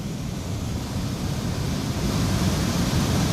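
Floodwater rushes in Pithoragarh during heavy monsoon rain, a loud unbroken roar of fast-flowing water that swells slightly toward the end.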